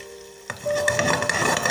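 Garlic hitting hot oil in a pan, a sudden loud sizzle bursting in after a quiet start and then crackling and spitting steadily, close up with no voices.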